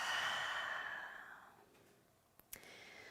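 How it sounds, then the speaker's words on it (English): A single big breath out during a chair yoga session, a long, soft, airy exhale close to the microphone that fades out, followed by a couple of faint clicks. "Take a big breath in and a big breath out."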